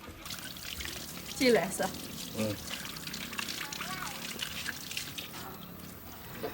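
Freshly washed chili peppers tumble into a basket while water splashes and trickles away through it, close and fairly soft, with people talking over the sound.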